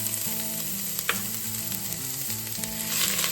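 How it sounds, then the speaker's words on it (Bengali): Ginger and garlic fry in hot oil with a dried red chili, a continuous close sizzle with occasional light stirring clinks, no voices. "এটাকে একটু ভেজে নেব"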